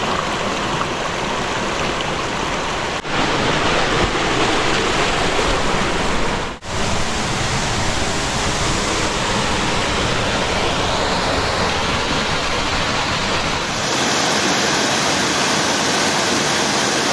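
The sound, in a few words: waterfall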